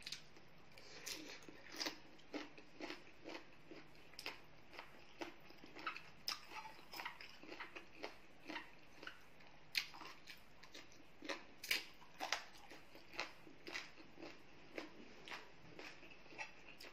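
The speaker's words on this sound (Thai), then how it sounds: "หัวหมูจะเคี้ยวลำบากเลยเนาะ" Someone chews boiled pig head, cooked firm, close to the ear. Loud rhythmic crunching and tearing bites repeat about once a second throughout, with quiet moments between chews.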